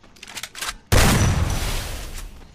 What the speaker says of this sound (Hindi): शॉटगन का ये खतरनाक हेडशॉट।